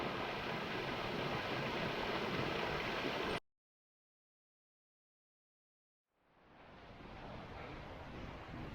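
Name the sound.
wind in a valley by a brook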